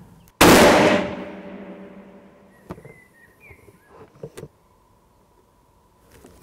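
A rifle fires a single loud control shot at a range after a new scope is mounted. The sharp blast decays over about half a second, followed by quieter clicks and handling noises.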